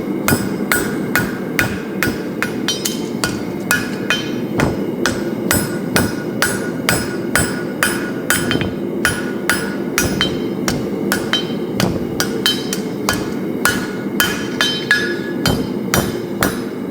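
A hammer strikes hot steel in a fullering step, pounding it to an even surface. Sharp, loud blows ring out in a steady rhythm of about two per second across the whole stretch, with no speech.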